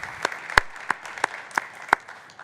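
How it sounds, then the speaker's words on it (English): Sparse clapping from a small scattering of people at a programming conference, about seven distinct claps spaced out unevenly, fairly faint. "I want to give everybody a round of applause who has contributed to open source."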